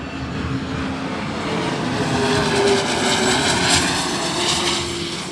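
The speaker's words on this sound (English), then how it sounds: "I'll wait for this corporate jet to go by." A corporate jet passes overhead outdoors at an airport, a loud, sustained engine roar that swells slightly toward the middle and holds steady throughout, with no talking.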